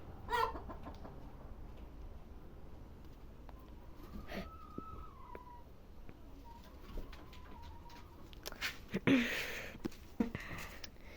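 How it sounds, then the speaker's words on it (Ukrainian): Chickens cluck and murmur in a village coop, with several drawn-out calls and scattered soft clucks at moderate distance over faint background noise. "Тут курник у бабусі."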